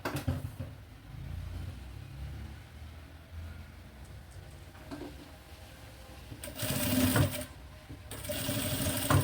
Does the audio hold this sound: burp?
no